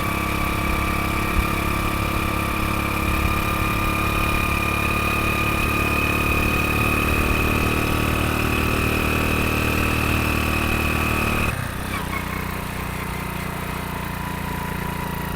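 A 50 cc scooter engine climbs the steep Hai Van Pass near Da Nang, a steady, close, buzzing drone that drops slightly in pitch and loudness near the end.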